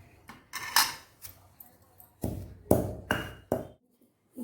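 Metal utensil tapping and scraping in a dish while coriander is mashed for a coriander pickle; a series of irregular clinks and knocks, close and moderately quiet, with pauses between strokes.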